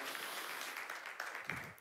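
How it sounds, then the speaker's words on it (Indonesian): A church congregation applauding together, a dense, even wash of many hands clapping at moderate volume, fading out at the end. "kita berikan tepuk tangan yang meriah buat Tuhan Yesus"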